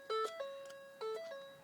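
Door chime of a 2009-2010 Ford F-150, a faint series of repeating electronic ding tones alternating between two pitches, heard alone.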